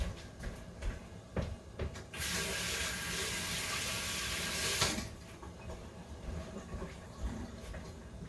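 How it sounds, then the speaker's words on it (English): Tap water runs for about three seconds as hands are washed, a steady close rush between quieter kitchen handling sounds before and after, with no talking. "I'm just gonna wash my hands real quick."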